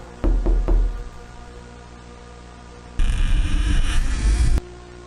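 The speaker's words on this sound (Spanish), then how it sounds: "llamó a su puerta" A door in an analog horror story is knocked three times in quick succession, loud and close, followed after a pause by a long harsh burst of static-like noise.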